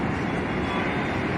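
Steady, dense rumble of a Delhi metro train running on an elevated track overhead, blended with road traffic below, continuous and fairly loud throughout with no talk.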